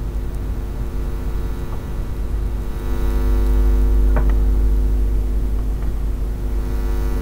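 Rusting pipes at the Tušimice coal power plant give off a steady low hum with faint higher tones, growing a little louder partway through, with a few faint clicks over it.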